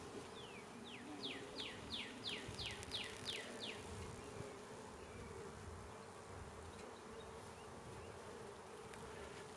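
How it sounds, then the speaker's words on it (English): Steady insect buzzing from honeybees in a weak hive's full box, a dense continuous drone close by with no talk, overlaid early on by a brief series of chirping bird notes. "I'm really surprised this box is full of bees."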